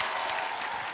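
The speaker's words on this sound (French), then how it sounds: "je voudrais qu'on applaudisse 2 Toulousains" Studio audience applause on a French television game show, a dense, even patter of clapping that fills a single brief second.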